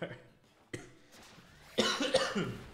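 A person with a cold and sore chest coughs several times, a few sharp bursts early on and a louder cluster near the end, close and clear with no talking.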